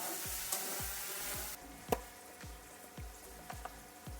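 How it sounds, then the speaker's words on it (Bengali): Eggs being sautéed in a potato, onion and tomato curry for a tangy, spicy egg bhuna, with a steady low sizzle broken by repeated soft stirring scrapes and a few brief clinks, all fairly quiet and with no talk. "ডিমগুলো দিয়েও এর সঙ্গে ভালো করে কষিয়ে নেব।"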